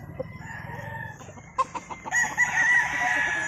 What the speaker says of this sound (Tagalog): Ano pang ibang mga manok na broodcock nyo, Kuyax?